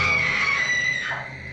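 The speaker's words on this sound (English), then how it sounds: "suddenly a woman's scream is heard." A woman screams suddenly in the early hours of the morning, a sustained high, strained cry that carries across much of a second and a half before fading, heard from another room without any talk.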